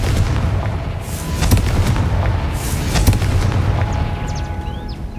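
A Confringo fire spell explosion in the video game Hogwarts Legacy, with loud booming blasts and sharp cracks over a dense rumbling combat background throughout, with no talking.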